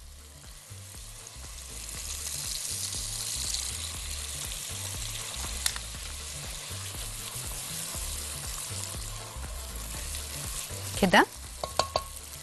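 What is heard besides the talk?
stirring crushed fava beans cooking in pan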